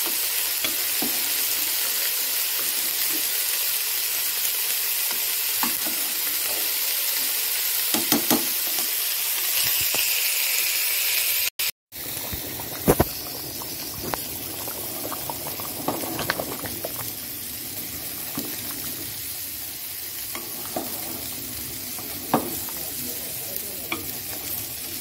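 Cabbage curry sizzling and frying in a pan while being stirred, a continuous close hiss with intermittent scraping stirs and a brief gap midway, no talk.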